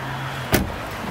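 A Tesla car door shuts with one solid thud midway through, followed by a soft mechanical lock sound, heard close up with low background hum.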